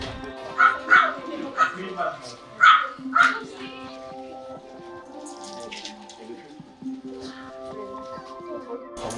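Rescued dogs at an animal shelter bark in a quick burst of loud, close yips and barks over the first few seconds, then whimper and whine more softly, with background voices and water sounds.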